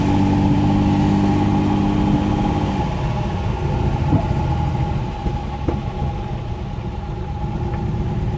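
A 1969 Mercedes 280SE engine with a ticking fault runs roughly at a steady idle, then its pitch and texture shift partway through as the revs settle. It is a continuous, close mechanical hum with no voices.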